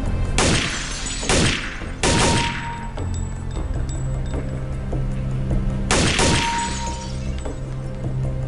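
Short controlled bursts of gunfire from a weapon in Counter-Strike: Condition Zero training: three sharp bursts in quick succession, a pause, then one more burst, each ringing out over a quiet background.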